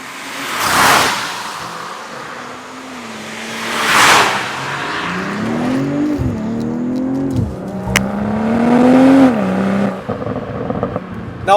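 A 2025 BMW M340i LCI II sports sedan, shown alongside a tuned M340i, with its engine and exhaust revving and rising in pitch through several shifts, loud and close, punctuated by two whooshing pass-like swells early on.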